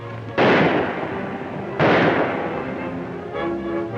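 Two heavy explosion bursts of fireworks boom out, each a loud sudden blast fading into a long rumbling tail, followed by a fainter crackle near the end, set in a 1941 Western film.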